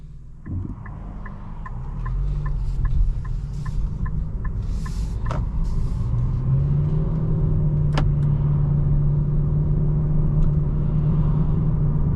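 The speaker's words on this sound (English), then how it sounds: "Setting off in the Sentra, here we go" A 2026 Nissan Sentra SR pulls away from a standstill, its engine rumble building into a steady, rising drone with road noise, heard from inside the cabin and with no talking.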